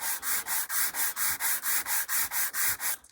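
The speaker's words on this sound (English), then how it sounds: "sand the whole thing down, make sure everything's flush" A sanding sheet rubs across a 1/48 scale HK Models B-25J plastic model kit in about a dozen even, rhythmic back-and-forth strokes, close and soft, with no voices.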